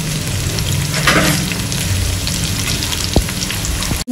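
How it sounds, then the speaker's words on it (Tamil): Onion and garlic sauté in sesame oil for a Tamil brinjal kadaiyal, giving a steady, close sizzle and crackle across the whole stretch, with a couple of sharp utensil knocks near the end. "வெங்காயம் பூண்டையும் சேர்த்துக்கிட்டு நல்லா நம்ம ஃபர்ஸ்ட் ஒரு வதக்கிடுவோம்"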